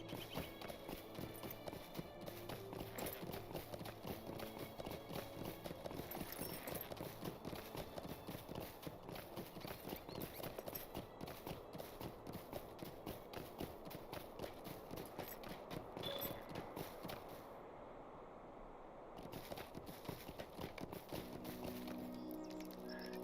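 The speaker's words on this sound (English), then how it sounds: "I'm gonna speed things up and use my horse" Horse hooves clip-clop at a quick, even running pace in the video game Lord of the Rings Online, a steady rhythmic patter that carries on without pause and stays close and clear, with no talk over it.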